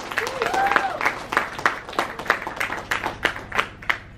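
Applause at an election-eve thank-you gathering in Markham, lighter and more scattered clapping from a crowd with rhythmic bursts and some voices mixed in, fairly close and moderately loud.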